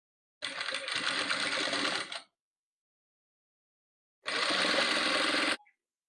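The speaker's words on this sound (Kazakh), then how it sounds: "Міне осылай бір-біріне тігіп тастаймыз." A sewing machine stitches fabric squares together in two loud, rapid runs of mechanical clatter, each lasting one to two seconds, with silence between them.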